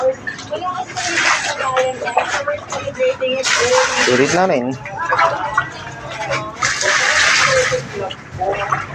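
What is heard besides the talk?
washing freshly caught fish with water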